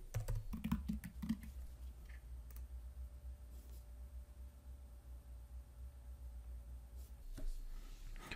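Password being typed on a computer keyboard: faint, quick key clicks clustered at the start, then sparse taps over a quiet room hum.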